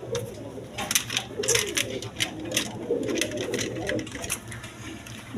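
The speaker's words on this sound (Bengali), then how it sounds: "দর্শকবিন্দু এখানে এক পেয়ার আর্মি কবুতর আছে" A pair of army pigeons coos in low, repeated rolling calls, close by, among a steady background clatter.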